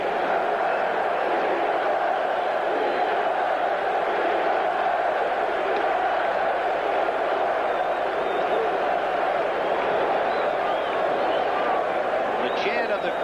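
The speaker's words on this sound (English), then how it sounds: "The chant of the crowd" A large baseball crowd chants and roars at Veterans Stadium in Philadelphia during the 1983 National League playoffs, a dense, continuous wall of voices that stays steady and loud throughout.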